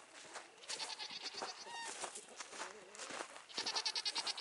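Goats on a farm bleat several times in short quavering calls, fairly close, with a rapid run of bleats near the end and faint background sounds.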